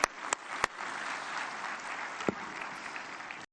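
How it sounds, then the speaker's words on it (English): Steady applause from a conference audience in New Delhi honoring Jacob Hellberg for the PAX Silica AI initiative, a dense wash of clapping with a few sharper claps near the start, holding evenly until it cuts off. "So a round of applause to him"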